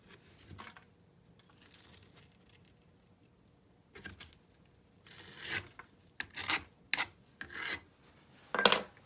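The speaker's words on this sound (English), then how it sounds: "Okay, so now we're going to scrape this off." Sand is scraped off a red clay casting mold in short, raspy strokes, sparse at first and then quicker and louder, heard close up with quiet pauses in between and no talking.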